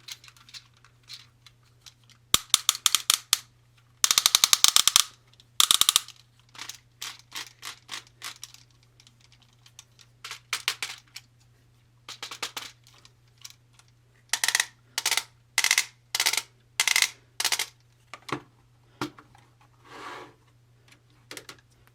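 Bursts of crisp plastic ratcheting clicks from a Transformers Legacy Motormaster toy's waist swivel, some rapid and dense, others in short even runs, close up over a low steady hum.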